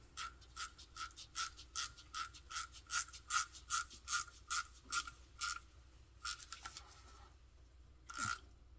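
A ratchet wrench tightens a thermostat fitting on a Snow Bike C3, producing a steady run of crisp, evenly spaced clicks that pause briefly and then resume with one last burst, close and clear with no talking.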